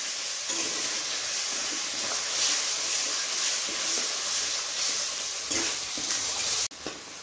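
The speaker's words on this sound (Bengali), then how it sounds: "ছাড়ানো মটরশুঁটি দিয়ে দিচ্ছি। এবার ভালো করে আমি মিশিয়ে নেব।" Shelled peas are stirred into a hot pan for a vegetarian paneer masala, giving a continuous hissing sizzle with light scraping and a sharp break near the end, with no voices.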